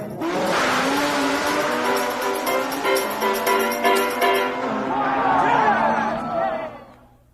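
Race cars at an import drag race at ATCO Raceway, a night event in southern New Jersey, roar and rev loudly with tire squeal as they launch, a sustained engine blare that fades near the end, with a voice talking over it.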